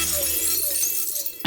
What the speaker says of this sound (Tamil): நான் பாடுறத கேட்டு உடையுமே கண்ணாடி